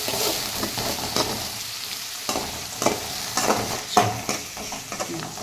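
Tomato and onion sautéing in a pan, a steady loud sizzle broken by repeated scraping strokes of a spoon against the metal, close up with no talking.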